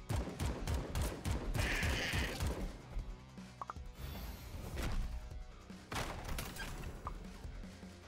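Rapid gunfire in the game AK xolotl, dense bursts of shots at the start followed by scattered hits, impacts and mechanical clicks in a busy, continuous mix.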